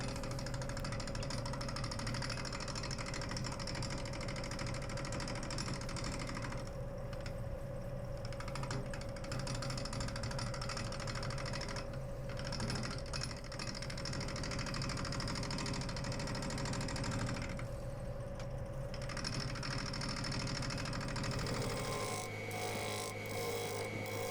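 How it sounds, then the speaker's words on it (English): A bowl gouge, a half-inch Sorby, cuts into green yew on a wood lathe spinning at 800 RPM. A steady, loud rasping scrape runs over the motor hum throughout, then cuts off near the end as the lathe spins on alone. "we're spinning at 800 RPM with the 1/2 inch Sorby bowl gouge"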